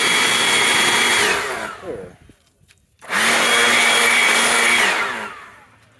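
Close, loud leaf blower blasting dust out of an Art Deco GE tabletop radio cabinet, running in two bursts separated by a short quiet gap, with a brief spoken word in the pause.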